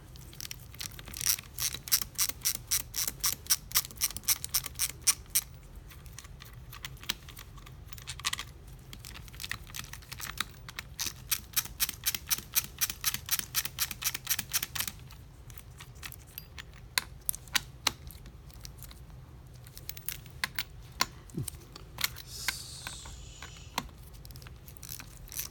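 A Mercedes 190SL transmission is taken apart on a work desk, with rapid bursts of metallic ratcheting clicks in quick runs, separated by pauses, plus scattered light clinks of metal parts.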